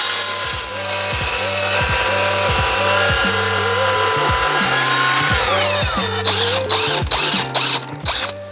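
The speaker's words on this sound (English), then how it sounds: "So we're going to cut 2 lengths of 2266 and then bolt them together." A power saw cuts timber lengths for a bolted lintel in a garden room workshop build, its loud, steady whine sounding close with a regular rhythmic knocking under it, then breaking into uneven clattering pulses near the end.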